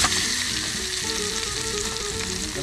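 Food sizzles steadily in a hot camping cookware pan outdoors, a bright crackling hiss that continues without a break.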